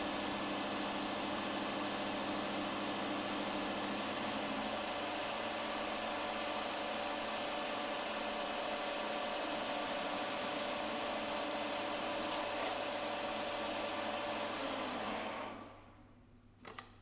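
A machine tool runs steadily through an end-facing cut on a metal part, giving a continuous whirring hum with a faint tonal whine for about fifteen seconds before it winds down and goes quiet.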